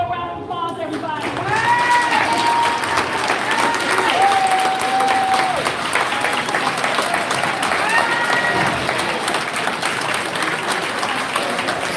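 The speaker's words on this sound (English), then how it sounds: "Give her a round of applause, everybody." Audience applause at a public meeting as a woman in the back stands up, broad steady clapping with some cheering and whoops, fairly loud and sustained throughout.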